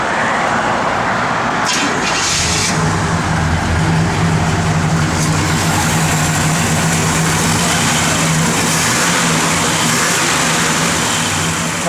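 A 1965 Chevrolet Impala SS convertible engine runs steadily throughout, a low continuous rumble with a mild cam lope, close and fairly loud with no talking.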